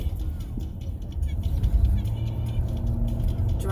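Car road noise from inside a moving vehicle, a steady low rumble with tire and engine hum throughout, loudest in the middle.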